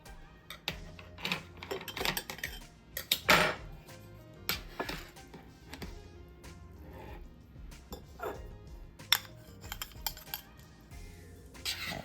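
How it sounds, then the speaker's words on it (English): A knife and plate at work while a slice of pineapple upside-down cake is cut, with soft clinks and scrapes of cutlery on the dish and a few sharper taps, quiet and close, with no talking. "And now I'm going to cut a slice so we can see how it is."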